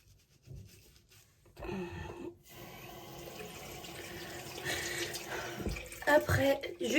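Tap water runs into a sink as a face is rinsed of foundation, with close splashing and rubbing that grows busier toward the end while someone talks.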